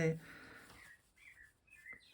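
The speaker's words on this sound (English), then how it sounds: "There is a happy blackbird outside my window." A blackbird chirps and warbles in short bright phrases outside a window, fairly close, with quiet gaps between notes and no talking.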